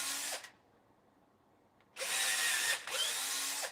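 A power drill fitted with a 4.5 mm bit widens small pilot holes for skate screws, whirring in two short bursts separated by a quiet pause.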